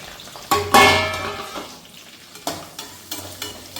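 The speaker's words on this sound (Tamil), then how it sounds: "இது வந்து நல்லா கோல்டன் ஃப்ரை ஆகட்டும்." Chopped onions and green chilies hit hot ghee with a loud sizzle, then frying crackles on with several sharp scraping stirs against the pan.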